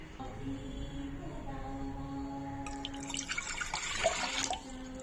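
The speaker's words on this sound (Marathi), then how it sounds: "त्यामध्ये दोन ग्लास पाणी ओतत आहे" Water from two glasses is poured into a pressure cooker heating on a gas stove, a soft splashing pour rising toward the end over faint background hum.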